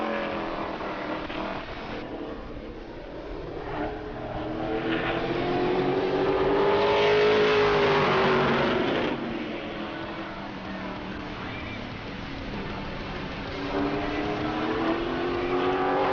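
Pro Late Model race car running a qualifying lap at New Smyrna Speedway, its engine droning from a distance, swelling louder as it passes around the middle and fading again, with no voices heard.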